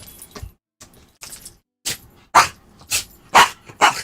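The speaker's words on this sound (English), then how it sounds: "Enough barking, God." A dog barks sharply nearby in a series of about seven loud, separate barks that grow stronger and more regular toward the end.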